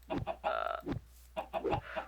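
Chickens in the Minecraft SkyFactory 3 modpack, several short clucks in quick bursts with a brief pause between groups, close and clear with no talk.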